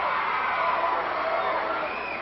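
An indoor crowd at a professional wrestling match between Bobby Jaggers and the Cuban Assassin cheers and shouts in a sustained, fairly loud roar, with muffled, narrow-band sound quality.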